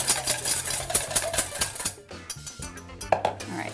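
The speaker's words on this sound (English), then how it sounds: "You wanna whisk them kind of vigorously to get them to be light and creamy." Egg yolks being whisked vigorously in a bowl for a gluten-free banana pudding, a brisk run of rapid metallic clicks and scrapes with short pauses, close and fairly quiet, with no talking.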